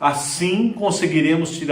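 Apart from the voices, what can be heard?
No distinct noise like a dog, phone or traffic.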